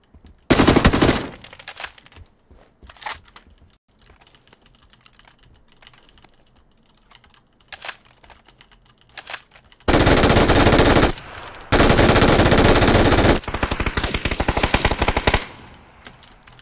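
Loud automatic gunfire from a first-person shooter video game erupts in short bursts, then two long sustained volleys, with quieter clicking of computer keys and mouse in the gaps between.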